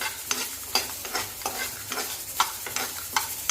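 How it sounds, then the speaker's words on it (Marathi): Whole spices and red chillies dry-roast over low gas in a kadhai, stirred in a steady rhythm of scraping strokes roughly every half second over a light sizzling hiss. "आता हे सर्व मसाले टाकून घेऊया सर्व साहित्य टाकून घ्यायचं कढईमध्ये आणि छानपैकी कमी गॅसवर छान भाजून घ्यायचं"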